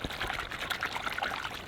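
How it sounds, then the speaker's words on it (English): Warm homemade natural soap liquid pours steadily into a container, a continuous bubbly splashing trickle heard close up with no talking. "I'm going to pour some in here."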